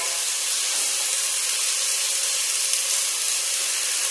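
Onions and garlic frying in olive oil in a pan for risotto, giving a steady, close, even hiss that runs unbroken with no talking.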